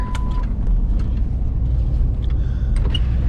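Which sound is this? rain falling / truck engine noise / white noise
truck engine noise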